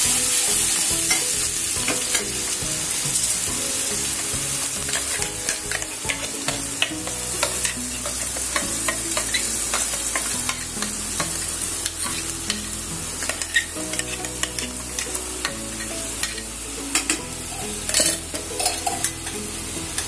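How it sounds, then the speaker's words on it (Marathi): Ground masala paste frying in plenty of oil for Marathi shev bhaji, a bright constant crackling sizzle with frequent spoon scrapes and clinks against the pan over about twenty seconds, close and busy, without speech. "आपला हा वाटलेलं वाटण घालूया सगळं। तेल जरा थोडं जास्त लागतं कारण मसाला भरपूर आहे।"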